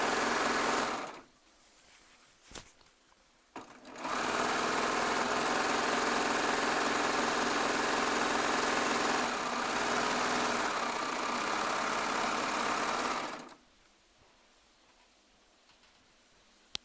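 A Baby Lock Triumph serger stitches a stack of fabric layers together, its loud, steady motor whir running for about nine seconds after a few short starts, then stopping.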